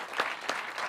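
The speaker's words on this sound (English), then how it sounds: "Let's give a round of applause for our amazing panelists." Audience applause for panelists at an evening panel event, a short burst of many hands clapping at moderate loudness, with a couple of sharper peaks and no talk.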